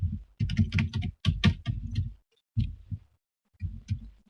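Typing on a computer keyboard, rapid close clicking keystrokes in several bursts separated by brief pauses.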